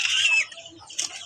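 Chickens cluck in a brief burst, a few short clucks close by, followed by a quieter answering call.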